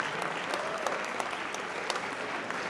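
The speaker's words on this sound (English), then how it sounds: "Let's give Andrea a big round of applause" An audience at a spring convocation applauds a part-time math faculty member, steady dense clapping from a crowd heard at a moderate distance, with a few sharper individual claps standing out.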